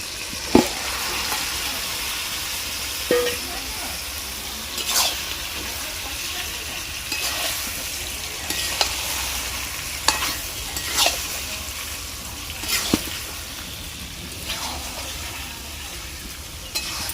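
Mutton (goat meat) being sautéed with fried spices in oil for a Bengali curry, a steady close sizzle broken by repeated scrapes and clacks of a stirring spoon against the pan throughout.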